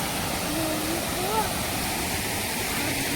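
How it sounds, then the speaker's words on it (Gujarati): Water of the Noli river flows in a continuous, full rushing roar, while a voice briefly and faintly speaks over it. "તો જો આ બાજુ પાણી જઈ રહ્યું છે."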